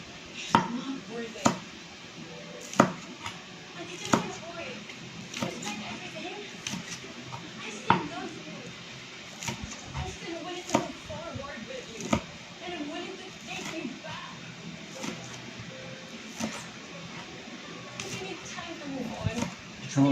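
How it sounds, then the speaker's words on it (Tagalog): A knife chops onion leaves into small pieces on a board, with sharp, close taps in an uneven steady rhythm running throughout while a voice talks over them. "Kailangan maliliit ng hiwa natin dito sa onion leaves"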